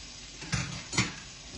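Cooked, rinsed kidneys going into a pan of peas over the heat, two soft close clatters about half a second apart, then a quiet tail.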